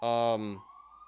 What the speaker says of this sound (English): my bad about the ambulance